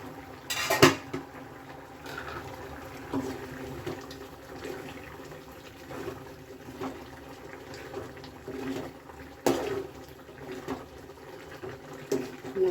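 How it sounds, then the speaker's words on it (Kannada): A metal pot lid is set down over chicken gojju left to cook, giving a sharp clank near the start and another around the end. Softer kitchen clatter and faint background noise fill the gaps. "ಮುಚ್ಚಳ ಮುಚ್ಚಿಬಿಟ್ಟು ಬೇಯಕ್ಕಿಟ್ಬಿಡೋಣ."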